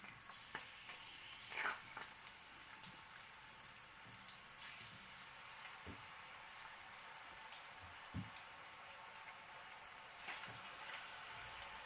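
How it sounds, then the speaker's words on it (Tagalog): Marinated salmon frying in a pan of boiling oil gives a faint, steady crackling hiss with scattered soft pops and spits. "Piprito na natin to. Ang ating salmon."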